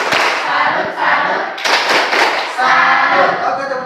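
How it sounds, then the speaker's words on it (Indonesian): Indonesian classroom students perform a rhythmic 'tepuk salut' clapping chant, with bursts of group claps and shouted voices mixed together, loud and close, ending with the class calling out in unison. "Tepuk salut."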